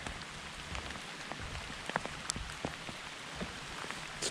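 Rain pattering steadily on a muddy creek trail in Nebraska, with scattered close drops striking nearby surfaces over a soft, constant wash of rainfall.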